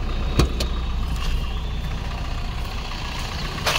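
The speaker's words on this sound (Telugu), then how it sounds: "ఒకసారి బండి స్టార్ట్ చేసి చూపిస్తా, సౌండ్ మీకు ఎలా ఉంది ఇంజన్ సౌండ్" A 2019 Maruti Brezza ZDi diesel with about 124,500 km idles close by, a steady low engine rumble with a faint knock at the start.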